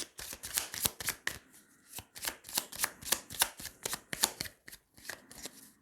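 Tarot cards are handled, shuffled and laid down over a pile in a rapid series of crisp, close papery slaps and riffles with brief pauses between bursts.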